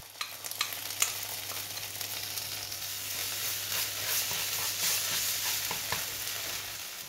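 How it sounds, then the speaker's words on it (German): Tomato paste and caramelized sugar sizzle in a pan, a steady hiss and crackle with scattered scraping stirs and a low hum underneath, close and continuous. "karamellisiere ich dann erstmal noch ein bisschen Zucker in der Pfanne und gebe dann anschließend noch Tomatenmark mit hinzu und das röste ich an"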